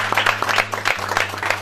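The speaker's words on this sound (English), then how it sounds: "Let's give all the parents a big round of applause" An audience applauds the parents at a school program event, with a dense, steady patter of many hands clapping for the whole moment over a low background hum.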